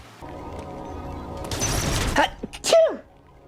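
A person sneezes once, a sharp loud burst with a short drawn-out vocal tail, following a stretch of quiet background murmur and ending in near silence.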